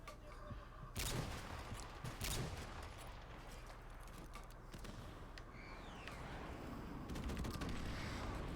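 Bursts of gunfire in Call of Duty Modern Warfare, with loud volleys near the start and steady battle noise continuing throughout.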